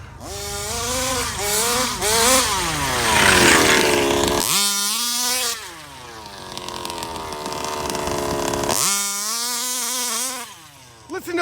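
A Rovan 34cc engine started for the first time, fitted with non-stock gears, screams at high RPM, rising and falling through sustained loud, close revs with a brief drop between pulls.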